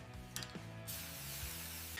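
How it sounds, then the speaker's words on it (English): Aerosol cleaner sprayed into a carburetor jet during a small rotavator rebuild, a few short mechanical clicks and rattles at close range, then a sustained loud hiss of spray that continues to the end. "then use the spray to clear the jet completely"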